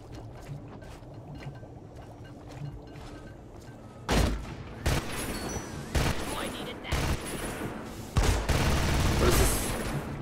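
Grenade explosion and gunfire in the co-op video game Deep Rock Galactic: a quiet stretch, then several loud bursts of blasts and shots from about four seconds on, closely spaced and booming, with game noise beneath.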